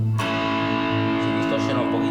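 Electric guitar played through a Harley Benton Tube 15 valve amp head with the gain turned all the way up gives a sustained, buzzing distorted chord that rings out after a sharp attack and fades slowly.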